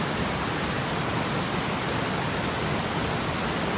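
Floodwater rushes over the dam on the flooding Sugar River in New Hampshire, a steady, dense, loud roar that fills the whole stretch without any break.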